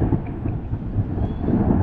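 Thunder from lightning over a river during a solo fishing trip on the Perak River rolls as a deep, loud, continuous rumble close by, with faint rain-like hiss above it.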